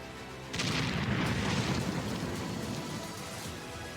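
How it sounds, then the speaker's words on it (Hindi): Car bomb blast in a white Hyundai i20 at a red light in Delhi, a sudden loud rumbling burst followed by a sustained roaring, crackling wash that slowly fades, heard from a distance with no speech. "सफेद रंग की i20 कार में जोरदार धमाका हुआ।"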